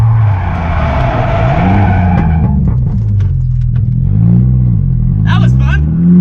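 A car on a race track loses grip and spins, its tires giving a sustained high squeal while the engine drones and rises and falls loud and close, ending with short chirps of tire squeal.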